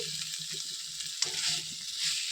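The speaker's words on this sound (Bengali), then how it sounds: "এটাকে এবার আমি ভালোভাবে নেড়ে নিব" Young goat mutton with salt, being stirred and fried for a Bengali potato curry. Steady close sizzling fills the pan throughout, with soft scraping stirs and one brief sharp knock in the middle.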